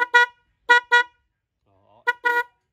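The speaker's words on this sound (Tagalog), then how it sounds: "Ganito yung pag-testing sa busina." A newly installed car horn gets tested with short, bright honks: a quick double toot, another pair, then a brief pause before two more blasts, close and loud.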